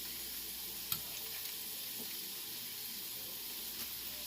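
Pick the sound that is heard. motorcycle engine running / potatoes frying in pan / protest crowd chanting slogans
potatoes frying in pan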